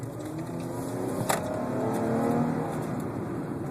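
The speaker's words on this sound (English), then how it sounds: "It has a decent amount of torque. It takes off pretty quick in traffic." A 2012 Dodge Charger rental car pulls away in traffic, its engine note rising steadily as it accelerates, heard from inside the cabin with a brief click partway through.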